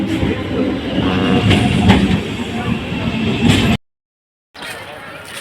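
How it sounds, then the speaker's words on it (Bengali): A passenger train pulls into a station platform with a loud, steady rumble and rolling wheel noise close by. It breaks off briefly near the end, then continues at a lower level. "এই যে আমাদের ট্রেন ঢুকছে"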